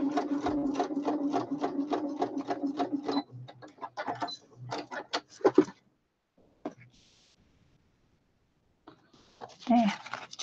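Short bursts of a sewing machine stitching across a paper junk journal page, a quick rattling run up close followed by clicks, handling noises and a brief stop-start buzz later on.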